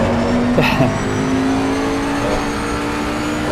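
A race car engine in Assetto Corsa Competizione powers through a corner, giving a loud, steady, high-pitched drone that is close and continuous throughout, with a brief gear-change blip near the start.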